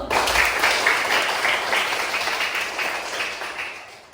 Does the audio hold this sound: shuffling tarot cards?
no